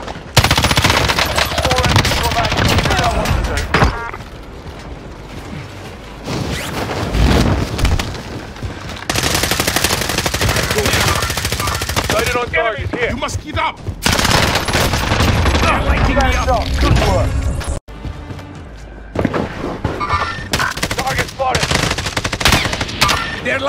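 Constant heavy gunfire in the Call of Duty Warzone video game: dense automatic bursts and overlapping shots nearly without pause, loud and close, with an occasional boom and brief gaps.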